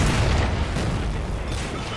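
A tank cannon firing in Men of War: Assault Squad 2 during a 1944 battle at Caen, a deep booming blast with rumbling low-end aftermath, loud and near.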